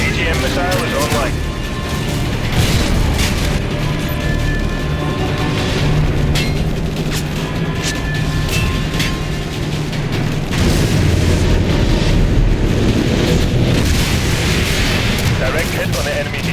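AGM missile strikes exploding on an enemy helicopter in the Modern Warfare 2 video game, loud booming blasts and rumbling over continuous battle noise, with radio voices talking throughout.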